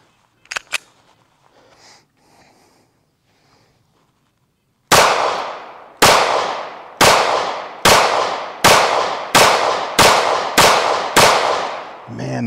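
Eight sharp gunshots from a SAR9 SOCOM Compact pistol fired at a steady pace outdoors, loud and close, after some faint handling clicks.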